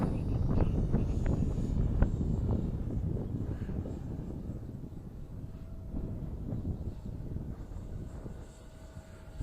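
An H. King Viper 64mm EDF jet on 6S power flies past outdoors, its ducted fan producing a loud, steady rushing roar that slowly fades as it moves away, with some wind buffeting on the microphone.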